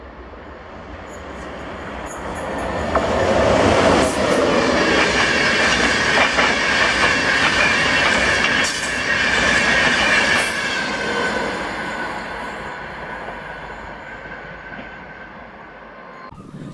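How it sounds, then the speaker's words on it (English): A London North Eastern Railway service from King's Cross to Edinburgh passes through Dunbar. It roars by loud and close for many seconds with hissing, rattling wagons and squealing wheels, then fades away. "Then this was 1S15, the 1546 London North Eastern Railway service to Edinburgh from London King's Cross."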